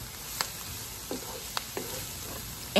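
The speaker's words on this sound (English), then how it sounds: "just stir the onion and saute them until they get a little soft" Onions sautéing in a pan for a beef and potato stew, a soft steady sizzle with a few scattered clicks of a stirring utensil, close and fairly quiet.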